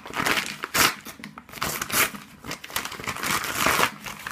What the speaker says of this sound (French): Donc là j'ai reçu mon colis de ma caméra. Donc on va l'ouvrir.